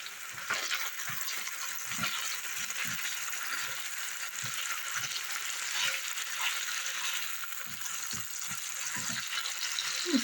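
Sausage and sliced pepper browning in a frying pan for breakfast, a steady close sizzle running throughout with soft scattered taps and stirring knocks.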